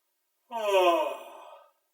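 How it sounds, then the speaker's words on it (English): A single voiced yawn from a singer warming up, a short rising-then-falling open sigh lasting about a second, heard alone and close. "Have a yawn."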